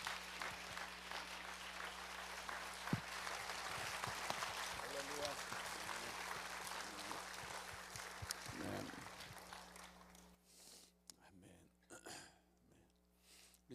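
A church congregation applauds as a missionary comes forward at a dawn service: steady, dense clapping that continues for about ten seconds, then tapers off into quieter room sound.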